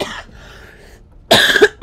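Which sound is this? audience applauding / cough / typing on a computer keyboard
cough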